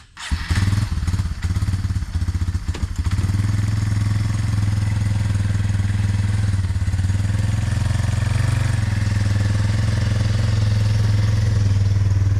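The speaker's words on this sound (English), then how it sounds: "I'm gonna move this four-wheeler out of the way." A four-wheeler ATV engine starts up and settles into a loud, steady idling drone that holds close to the mic for about twelve seconds, with a few thumps at the start.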